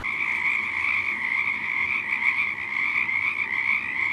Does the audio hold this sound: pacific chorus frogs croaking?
yes